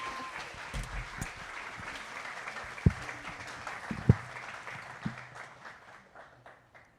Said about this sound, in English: Can we clap again for them, for Stephanie and Charlie?